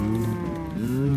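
A cow in the Minecraft video game gives a single drawn-out moo, clear and close, with no talk over it.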